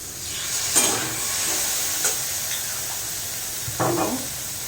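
Paneer and potato roll filling with raisins being sautéed and stirred in a pan, giving a steady soft sizzle with a few brief scraping stirs, close and alone without talk.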